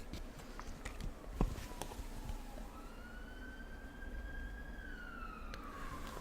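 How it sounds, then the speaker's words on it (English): A police car siren passes, its wailing tone rising and falling at moderate distance over steady street traffic noise, with a few faint close rustles and a sharp tap. "that was a police car"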